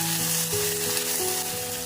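Tomatoes with salt frying in a pan for a Bengali posto dish, a steady, close hiss of sizzling oil with a faint hum running underneath, no voices.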